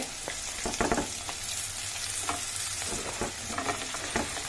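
Curry leaves and chopped onion fry in a pan for a bitter gourd and sesame powder dish, giving a steady close sizzle broken by intermittent stirring scrapes and clacks throughout.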